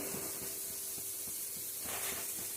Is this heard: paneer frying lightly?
yes